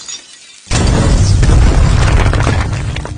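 A fuse blowing as a sudden loud bang, then a sustained crackling, rumbling roar that holds at full strength for several seconds with no speech.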